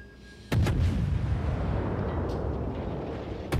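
Heavy naval gunfire from a destroyer's shells in a top-tier warship battle game: a sharp booming blast opens, followed by a long rumbling roll and another sharp shot at the end, with no talk.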